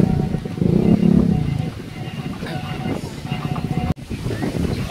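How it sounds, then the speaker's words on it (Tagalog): Strong seaside wind buffeting the microphone, heavy low rumbling gusts with surf-like wash, loud and close, with a brief dropout near the end. "Hangin kayo basig dili distorted ang mic pa no."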